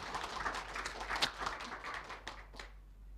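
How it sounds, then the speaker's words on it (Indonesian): Light, scattered clapping from a small audience at a talk, fairly faint and thinning out toward the end. "Tepuk tangan untuk dia"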